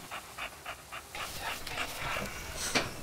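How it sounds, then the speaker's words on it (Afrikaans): A farm dog pants quickly and rhythmically close by, with short breathy puffs at an even pace that grow busier and blend with faint whimpers, with no talk. "Choppie, beste brak op die plaas."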